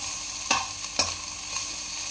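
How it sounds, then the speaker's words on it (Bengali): Salted vegetables for spring rolls fry in a pan with a soft, steady sizzle, broken by a few faint clicks of stirring. "ভেজিসগুলো একটু সফট হওয়া অবধি আমি এটাকে ফ্রাই করব"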